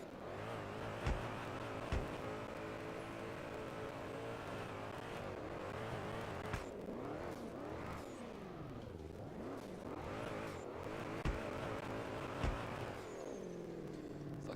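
A Kia car engine revs up and down through repeated rising and falling sweeps over about fifteen seconds, heard from inside at moderate level, with a few sharp clicks or knocks.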